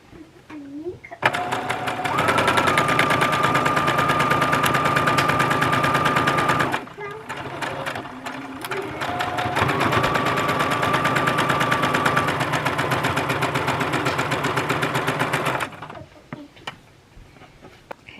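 Sewing machine stitching a quilt block seam along a pinned edge for flying geese blocks, running in two long steady bursts with a brief pause between, close and loud.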